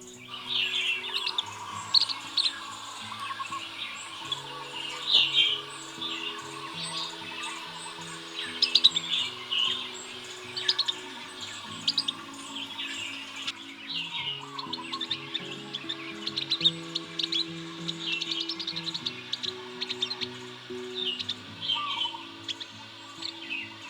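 Calls of a white-eye, a territorial bird, repeat through a dense chorus of chirps and tweets, with steady insect-like buzzing and some low hum underneath, sounding near to moderately close with no talk.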